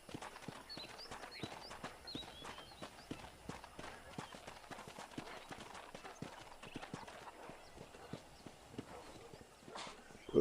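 Steady clip-clop of horse hooves at a trotting rhythm in Red Dead Redemption, moderately close, with faint background ambience and a few louder knocks near the end.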